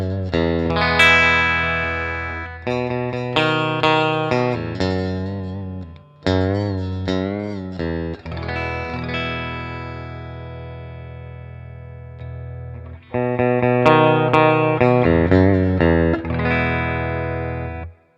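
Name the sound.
Cole Clark True Hybrid guitar played through humbucker pickup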